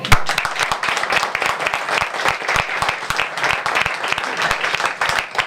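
Outdoor park crowd at a county supervisor's community talk breaks into lively applause, many hands clapping densely and continuously, fairly close and loud, with scattered sharper individual claps.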